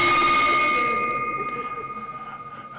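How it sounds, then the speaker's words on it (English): A handheld bell is struck once at a Rotary club meeting, a bright clanging ring whose tone lingers and slowly fades with a faint wavering shimmer. "Now start ringing bell, President Dudley, and I will let you know."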